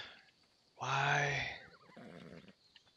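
A horse in the video game ARK Ragnarok gives one loud whinny with a falling, wavering trill, followed by softer snorting and quiet game sounds.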